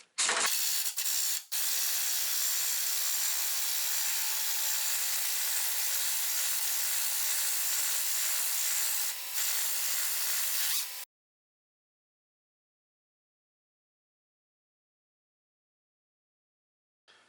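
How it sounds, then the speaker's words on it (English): A 1/2 inch impact wrench with a 16 millimeter socket runs out a rear strut bolt on a 2004 Ford Explorer 4X4, a loud, close, sustained harsh whirring burst lasting about ten seconds before cutting off to silence. "I'll use a 16 millimeter on my 1/2 inch impact to run out the bolt"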